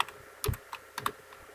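Keystrokes on a computer keyboard while Python code is entered, a few quick, close taps in small clusters with quiet gaps between them.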